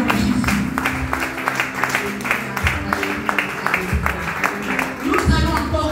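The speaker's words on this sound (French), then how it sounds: "Nous allons acclamer le Seigneur" A church congregation at a mission gathering in Abidjan applauds and cheers the Lord, with dense rhythmic clapping, crowd noise and voices mixed together, and music running steadily underneath throughout.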